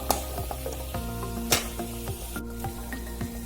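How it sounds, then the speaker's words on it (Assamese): Spices sizzle steadily in a hot pan while being stirred, with a soft continuous frying hiss broken by light scraping strokes and a few sharper ticks of the utensil against the pan. "ফ্ৰাই কৰি অকণমান লৰাই দিম। মছলাখিনি দিয়াৰ পিছত অলপমান ফ্ৰাই কৰি ল'ব।"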